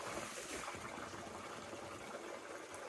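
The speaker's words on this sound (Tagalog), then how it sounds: "flowing lang po yung tubig" Cold water flows steadily at an outdoor bathing spot in Byasong, giving a soft, continuous rushing hiss with no break and no voices.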